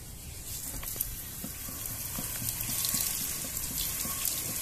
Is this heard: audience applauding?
no